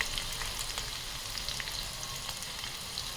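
Green chillies and garlic frying in oil in a pan, a soft, steady sizzle with light crackle, faint and continuous throughout.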